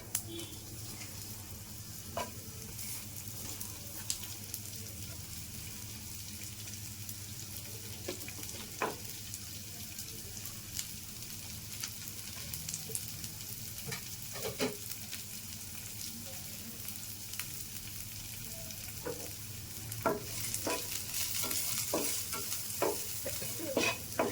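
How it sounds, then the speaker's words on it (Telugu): Ridge gourd peel fries in a pan with a steady soft sizzle, while a utensil stirs and scrapes through it in scattered clinks at close range. "వేసుకొని మనం బాగా ఇలాగ వేయించుకోవాలండి"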